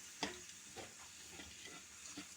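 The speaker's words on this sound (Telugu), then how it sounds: "ఉల్లిపాయలు కూడా కొంచెం గోల్డెన్ బ్రౌన్ కలర్ వచ్చేలాగా వేపాలండి" Onions frying in oil with tempering spices for a gongura mutton curry give a faint, steady sizzle, with a few soft stirring knocks and a brief sharp clink near the start.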